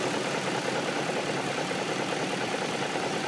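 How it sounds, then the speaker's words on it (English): A BMW M62 V8 in a 540i runs steadily at idle, a dense continuous mechanical hum carrying a faint grinding texture within, close and unbroken with no voices. "it sounds like there's almost like a tiny little bit of grinding noise inside the engine"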